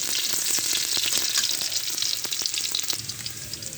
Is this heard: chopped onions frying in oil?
yes